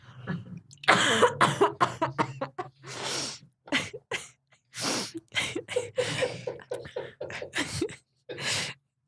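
Repeated bursts of coughing and throat clearing, close and loud, coming in irregular clusters with short pauses between them.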